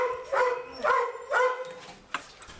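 Dogs at the SPA Mauricie animal shelter bark in three loud, evenly spaced barks close by, followed by a few softer yips and whimpers.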